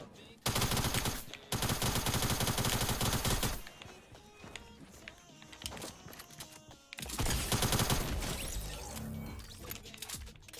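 Fortnite gunfire on Nintendo Switch comes in long, dense bursts of rapid automatic shots, loud and continuous, with a quieter stretch of scattered game noise between the two barrages.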